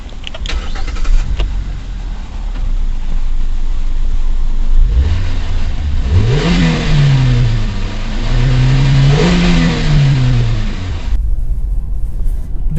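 Hyundai Grand i10 Nios with a 1197cc petrol engine pulling away, its note climbing and revving through rising pitch sweeps, then easing and rising again; close and loud with steady road and cabin noise, no talk.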